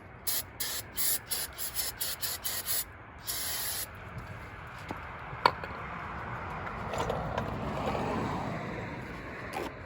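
Short repeated bursts of aerosol brake parts cleaner spraying on a car's brake parts, hissing sharply several times in quick succession, then a longer spray, followed by quieter handling noises.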